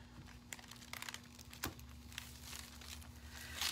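A silicone mold being slowly peeled out of a tray gives faint, close crinkling and soft tearing rustles in short irregular bursts, very quiet throughout.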